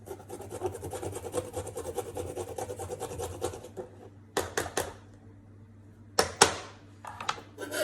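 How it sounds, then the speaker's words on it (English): Fresh ginger is rubbed briskly across a ginger grater in quick, repeated rasping strokes, steady at first and then giving way to a few scattered scrapes and taps. "Trusty ginger grater. A couple teaspoons will be nice."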